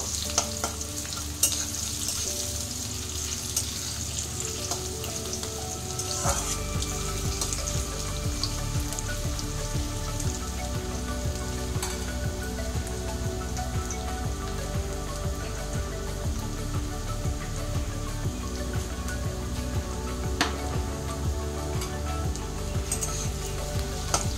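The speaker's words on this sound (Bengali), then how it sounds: "এগুলো একটু হালকা ভেজে নেব" Small potato pieces frying lightly in a pan for a mochar (banana flower) dish give a steady, close sizzle with scattered crackles and occasional stirring scrapes throughout, with no talking.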